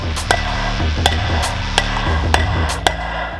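Sharp metallic hammer strikes on a center punch marking metal for drilling a custom brake setup, about eight hits at an uneven, unhurried pace, close and ringing over a low background hum.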